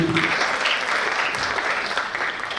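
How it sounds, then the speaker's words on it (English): An audience claps steadily, a dense, even wash of applause lasting a few seconds at close range. "Round of applause for you."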